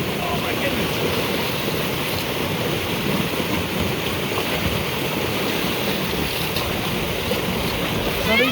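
Irrigation water flows and rushes steadily past old cement form boards used as makeshift gates in a high-desert field, a continuous broadband wash that stays loud and even throughout.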